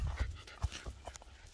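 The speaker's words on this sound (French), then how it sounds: "J'ai un chien qui joue au ballon." A dog playing with a ball pants softly in quick, uneven breaths, with faint scuffling. The sound is close and quiet, and there is no talking.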